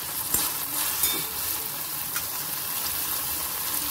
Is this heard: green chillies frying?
yes